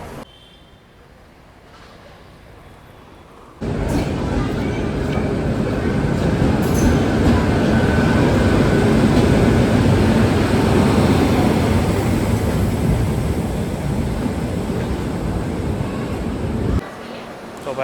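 The 22945 Saurashtra Mail rolls along the track, heard as a loud, continuous rumble of wheels and coaches that starts abruptly, holds steady for about thirteen seconds, then drops away.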